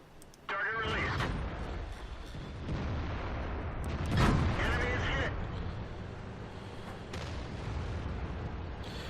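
Tank main gun firing in World of Tanks, with heavy booms and sustained rumbling battle noise throughout and a peak blast near the middle, mixed with a voice talking.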